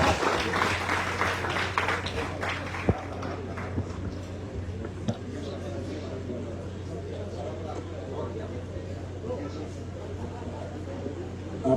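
An audience applauds at a school's centenary celebration in La Vallée, loud and dense at first, then thinning into scattered clapping and background chatter.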